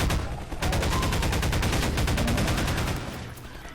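The Hunter enemy in Half-Life 2 Episode 2 fires a rapid, evenly spaced volley of loud flechette shots lasting about three seconds, with no talking over it.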